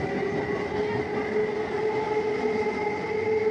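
A passenger train runs past a rural station on the Katwa–Nabadwip line in West Bengal, India, a steady loud rumble of railcars with a sustained tonal hum and rolling wheel noise throughout, no voices.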